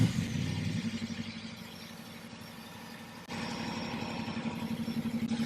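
A Jeep engine idles with a low, lumpy rumble, then briefly revs and settles back into a steady, throaty run close by.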